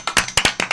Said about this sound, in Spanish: un aplauso para el webmaster